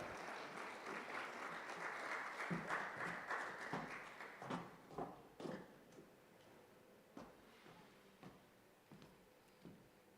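Audience applause welcoming a presenter at a student and youth panel event, a steady patter of clapping that thins into a few scattered, sharper claps before fading out.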